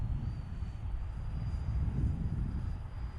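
E-flite A-10 twin 64mm EDF radio-controlled jet flying at about 30% throttle, a steady low droning rush holding level throughout, no voices.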